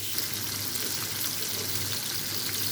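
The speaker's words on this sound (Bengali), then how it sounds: "এভাবে মাছগুলোরে ভেজে নিতেছি" Fish fries in oil in a kadai with a dense, loud, unbroken sizzle and a low steady hum underneath, close up and constant throughout.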